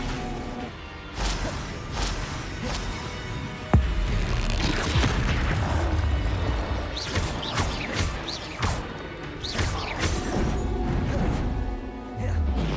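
Spell combat in the video game Hogwarts Legacy: a dense, continuous run of magical blasts, booms, crashes and whooshes, with a sharp heavy impact near the four-second mark, all loud and close throughout.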